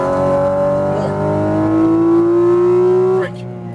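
The engine of a Porsche 718 Cayman GT4 RS on a racetrack climbs in a loud, close, rising tone under gentle throttle, shifts once and pulls on before easing off sharply at the end.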